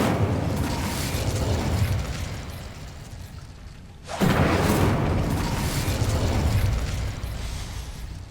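Two heavy, roaring bursts of a fire spell in Hogwarts Legacy, each a broad, loud whoosh of flame, split by a brief dip in the middle, with no voices.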